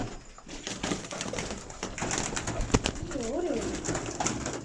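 Wild pigeons coo in low, wavering phrases near the end, among general bird activity and faint background talk in a close, busy setting.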